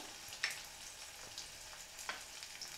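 Shallots, green chili and curry leaves sauté in hot oil for upma, a soft steady sizzle with a couple of faint stirring scrapes, quiet and close.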